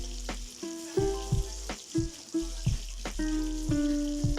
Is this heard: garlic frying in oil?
yes